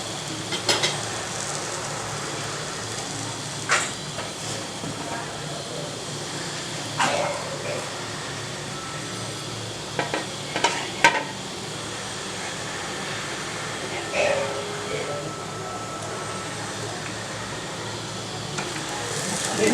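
Adai dosa batter sizzles steadily in sesame oil on a pan over low heat, a soft continuous fry with occasional clicks and taps of a utensil.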